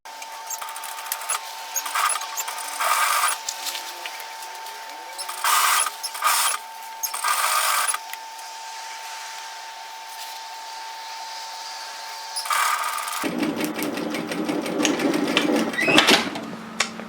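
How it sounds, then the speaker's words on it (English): A sewing machine stitches a waistcoat seam at a 1 centimeter allowance, with short stop-start runs of whirring early on, then a longer steady burst of stitching at the end, all over soft background music. "we're going to do is just stitch this together in a 1 centimeter, 3/8 of an inch seam allowance"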